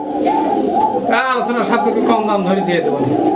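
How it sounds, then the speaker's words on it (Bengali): Pigeons cooing close by in repeated throaty, warbling calls, loud and layered, with a voice talking underneath. "কোকার ডাকে তো মাথা ঘুরে যাচ্ছে"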